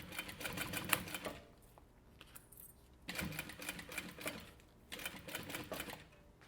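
A sewing machine stitches a seam on an anti-theft backpack three millimetres inside the line, running in three fast bursts of clattering needle strokes separated by short pauses with light handling noise.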